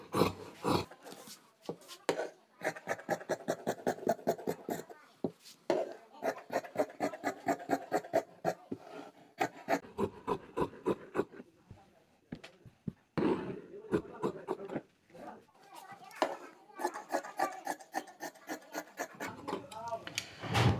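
Scissors cut through kameez fabric in rapid, repeated crisp snips, close and fairly quiet, in bursts with short pauses between them.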